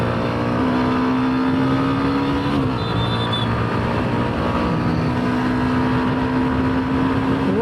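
A Hero Xtreme 125 motorcycle engine pulls hard through fourth and fifth gear on a city road, a loud steady drone with rising tone and a brief dip at a shift, wind rush heavy throughout.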